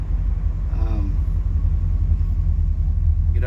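A 1978 Camaro RS V8 that hesitates under throttle, its low engine rumble heard from inside the car, droning steadily and loudly with a brief voice partway through.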